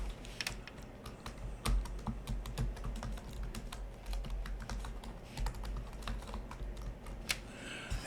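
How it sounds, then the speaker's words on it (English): Fingers type steadily on a computer keyboard, giving a close, continuous patter of quick key clicks with occasional heavier thumps. "So every time I type something here,"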